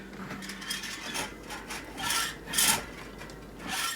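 .410 shotgun shell being crimped on a Lee Load All press with OMV tools: close, rasping, scraping mechanical strokes that swell and fade in several pulses, with a brief clunk near the end and no voices.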